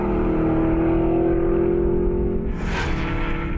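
Aston Martin Vantage S V8 sports car engine running with a steady, loud droning tone, then rising in a brief burst of revving near the end.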